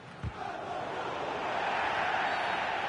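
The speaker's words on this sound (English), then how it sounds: "The crowd certainly think so. Just listen to that noise." A football video game stadium crowd roars in a broad, steady wash of noise that swells slightly louder over a few seconds, with a brief thud near the start.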